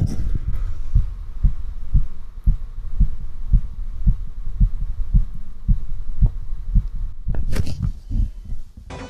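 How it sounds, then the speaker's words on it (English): A heartbeat picked up by a microphone during play of Kirby Triple Deluxe and Planet Robobot: steady, loud, low thumps at a regular rhythm of roughly two per second, ending in a sharper clatter. "I wonder if you could hear my fucking heartbeat right now."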